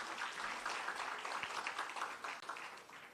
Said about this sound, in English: Let's give Baum Zimele a good round of applause.